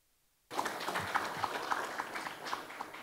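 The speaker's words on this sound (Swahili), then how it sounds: "makofi kwao" A crowd at a Simba sports club stadium project event breaks into applause after a sudden start, a dense, steady patter of many hands clapping at moderate distance and continuing evenly to the end.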